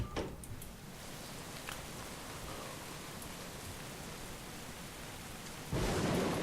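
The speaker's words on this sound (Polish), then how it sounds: "No tak, pioruny ich się nawalają" Thunder and steady rain in the video game Don't Starve: Hamlet, a constant hiss of rainfall with faint distant rumbles, then a sudden loud thunder crack near the end.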